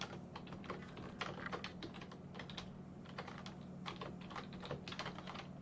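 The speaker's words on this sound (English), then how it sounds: "Type in that password." A password being typed on a computer keyboard: quick, quiet clusters of key clicks in uneven bursts over a low steady hum, close by and without speech.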